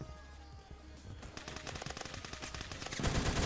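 M60 machine gun fire in Roblox Phantom Forces, rapid bursts of dense shots building in loudness, with heavier close fire at the end.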